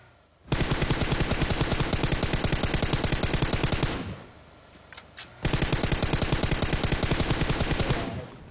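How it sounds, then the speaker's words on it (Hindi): Rapid automatic gunfire from a moving vehicle in the mobile game PUBG Mobile, two long loud sustained bursts of steady rattling shots separated by a brief lull with a couple of isolated sounds. "चलती गाड़ी से गोली चलाने की पूरी तैयारी है अभी।"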